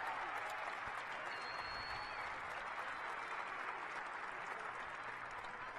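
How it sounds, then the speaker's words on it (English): A rugby stadium crowd at an Argentina v USA Americas Rugby Championship match cheers and applauds steadily just before kick-off, a dense, continuous roar of many distant voices and clapping that holds level throughout. "The crowd gives one final cheer"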